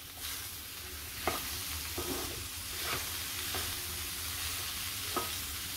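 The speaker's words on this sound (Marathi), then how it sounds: "चांगले परतून घेते." Button mushrooms sautéing in a pan give a soft, steady frying hiss with a few light stirring scrapes, fairly quiet and close, with no voices.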